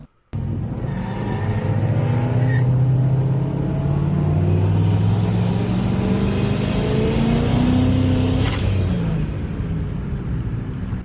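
A 2000 Corvette and a 2005 Mustang GT street race, a steady loud engine roar that holds for about ten seconds, with rising harmonic tones as the cars pull away together.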